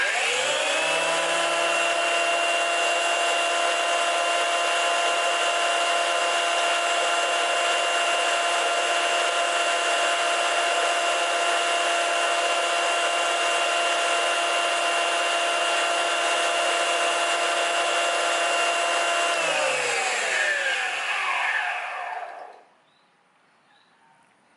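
A Geetech CT 100A mini jointer runs at a steady, loud, high-pitched motor whine for about twenty seconds, then switches off and winds down to quiet.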